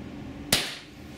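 Fired during a velocity test, a Tiberius T8.1 paintball marker lets off one shot: a lone, abrupt pop close by that decays within a fraction of a second, with near silence around it.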